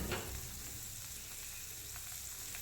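Green peas with butter and dried fenugreek leaves (kasuri methi) sauté in a pan, giving a faint, even sizzle throughout, broken by a few soft clicks of stirring.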